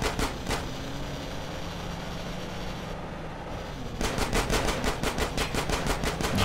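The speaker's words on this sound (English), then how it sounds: "How am I supposed to avoid them from like shooting me?" Enemy gunfire in Grand Theft Auto, Definitive Edition, on the streets: rapid automatic bursts up close, a short volley at the start, then a sustained rattling stream of shots after a brief lull.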